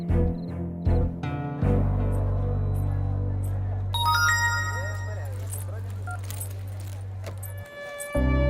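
A phone rings unanswered in a domestic scene from a Hindi comedy film, a steady electronic ringtone droning for several seconds with bright melodic tones layered on top, ending abruptly; brief clinks precede it.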